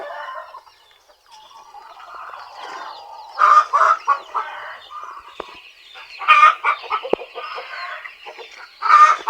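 A large flock of Plymouth Rock and Rhode Island chickens raised on a backyard farm clucks and squawks in bursts, with sharper close calls standing out from a steady murmur of hens, and no talking.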